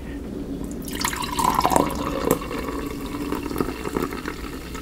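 3D Energy Red energy drink is poured out of its can into a glass, a close, steady splashing and fizzing stream lasting several seconds.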